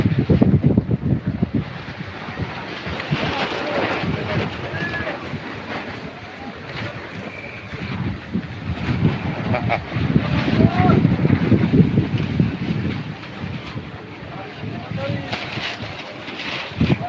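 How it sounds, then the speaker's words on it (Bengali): Strong wind sweeps across an open cattle market field, roaring and buffeting the microphone in steady loud gusts that swell and ease, while voices are faintly heard beneath. "মাঠে এখন প্রচুর বাতাস যে কোনো সময় ঝড় বৃষ্টি হতে পারে"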